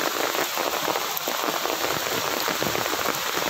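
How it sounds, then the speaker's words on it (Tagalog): Heavy rain pours steadily on a mountainside, a loud, dense, continuous hiss of drops drumming on surfaces with no pause. "so lakas ang ulan"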